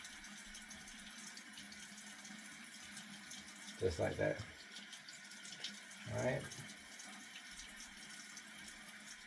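Hot water runs from a tap for an Army-style shave, a steady hiss that continues throughout while a person speaks briefly twice over it.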